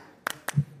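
Three sharp, evenly spaced hand claps keep a folk rhythm, bright and close against a quiet background, with a low hum briefly rising between them.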